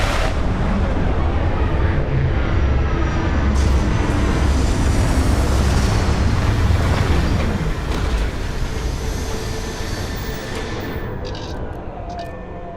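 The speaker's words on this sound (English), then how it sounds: "Retros firing." Spaceship retro rockets firing during a landing in the video game Starfield, a loud continuous roaring thrust that holds steady, then gradually eases and thins toward the end.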